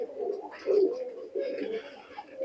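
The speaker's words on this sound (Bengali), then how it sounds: "পিওর ব্লাড লাইনের টেডি কবুতর" Pakistani teddy high flyer pigeons of a pure bloodline coo repeatedly inside a breeding loft with nesting birds, the low throaty calls close and fairly loud, overlapping in short bursts without talk.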